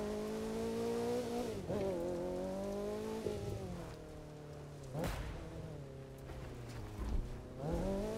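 A car engine in the PC game The Crew 2 drones and shifts pitch as it revs up and down, loud and steady, with rough surface noise underneath and no talking.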